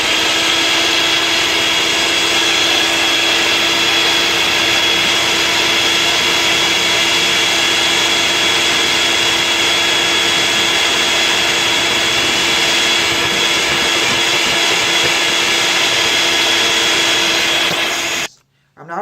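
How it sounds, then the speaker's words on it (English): Electric mixer whipping egg whites to stiff peaks for a holiday fruit cake, a loud, steady, close motor whine that runs unbroken for about eighteen seconds before cutting off abruptly. "And now I'm going to mix up the egg whites until they're nice and stiff."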